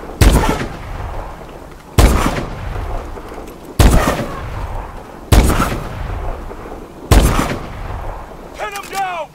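Heavy booming gunshots in Call of Duty Advanced Warfare, five loud evenly spaced blasts each trailing into a long echoing decay, a voice briefly audible near the end.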